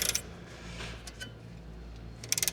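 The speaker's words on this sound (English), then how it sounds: "Now what I do is wind the bolt up against the top of the nut." A ball joint separator's bolt is wound against the nut with a hand tool, giving faint mechanical clicks and ratcheting ticks. A sharper burst of rapid clicks comes at the start and again near the end, with quiet rustling in between.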